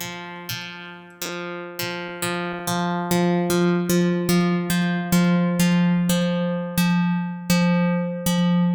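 A bright synth pluck from UVI Falcon's pluck oscillator at 100% depth repeats the same pitched note about twice a second, each hit decaying quickly, its tone slowly shifting and filling out.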